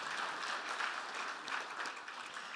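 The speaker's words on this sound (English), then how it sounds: "she deserves a round of applause" An audience applauds steadily at a Vanderbilt Athletics Hall of Fame ceremony. The clapping is a dense, even wash of many hands, held at a moderate distance and constant level from start to finish, with no voices.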